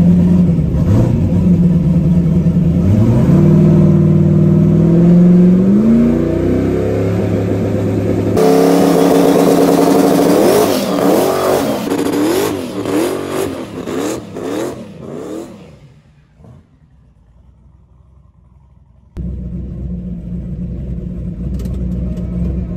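A 1150 hp turbocharged LS engine in a snowplow truck revs hard on a snowy road test run, loud and close, with rising and falling pulls, a sudden drop to near quiet, then a steady rumbling idle.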